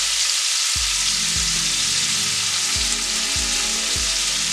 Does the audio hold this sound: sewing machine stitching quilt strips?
no